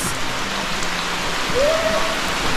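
Rain falling steadily at the Enchanted River in Surigao, a dense even hiss of drops on water and foliage, with a brief faint tone rising over it near the end.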